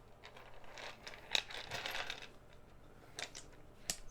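Dice roll for a tabletop wrestling game, giving a few light clattering rattles and clicks up close, with a sharp tap near the end and no one speaking.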